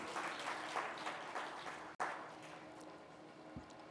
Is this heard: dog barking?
no